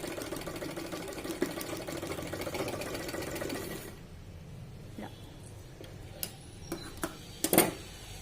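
Sewing machine running steadily while stitching a blouse with maggam embroidery work, a continuous close mechanical whir for about four seconds, then stopping, followed by a few sharp clicks and handling knocks in near quiet.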